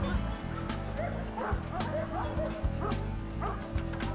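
Police K-9 unit dogs in training at the Watchung Reservation, barking and yipping in short bursts over a busy, steady background, with a faint whimper and a voice mixed in.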